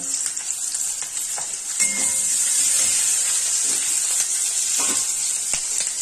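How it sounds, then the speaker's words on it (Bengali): Ingredients for pasta fry in a hot pan, giving a steady close sizzle with occasional stirring scrapes and bumps throughout, no talking. "এটাকে 2 মিনিটের মতো ভাজতে হবে, যাতে কাঁচা ভাবটা না থাকে।"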